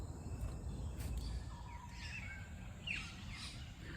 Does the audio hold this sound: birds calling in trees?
yes